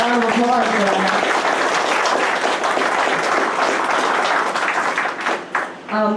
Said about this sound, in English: I think we are going to have yes, definitely a round of applause for that.